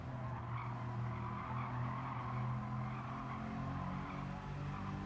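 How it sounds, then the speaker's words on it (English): A race car on the Goodwood track, its engine note and tire squeal held steady and loud throughout with slight rises and dips as the throttle is feathered, close and continuous with no talk. "Feathering that throttle to keep it on the track"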